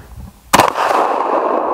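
A Mosin Nagant 7.62x54R rifle shot striking a steel target at an outdoor range, one sharp crack followed by a bright metallic ring that sustains and slowly fades, with no talking.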